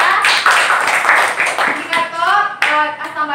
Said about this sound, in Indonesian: Jadi tepuk tangan untuk Lara